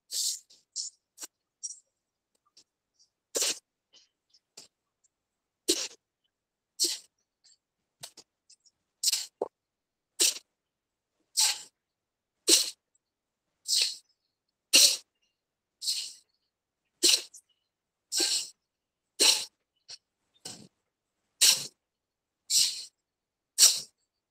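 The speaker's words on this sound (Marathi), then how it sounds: "श्वास घ्यायचा, वरती येताना घ्यायचा, खाली सोडून द्यायचा" Bhastrika pranayama breathing at a women's group yoga session: a long series of sharp, forceful breaths, sparse and soft at first, then regular loud bursts at a steady, slow rhythm, close to the microphone with silence between.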